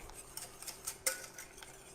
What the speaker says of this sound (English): give that sauce a good mix